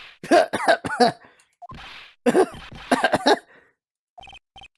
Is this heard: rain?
no